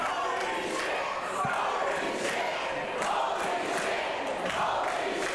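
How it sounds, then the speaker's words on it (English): A packed indie wrestling crowd at an RCW show roars steadily after a spear through a table, a dense, loud, continuous wall of shouting and cheering with no break. "Listen to this crowd."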